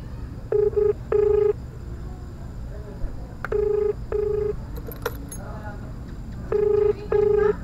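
Phone ringback during a call by a food delivery rider, paired bursts of electronic tone repeating three times over a low background hum, with a brief voice in between.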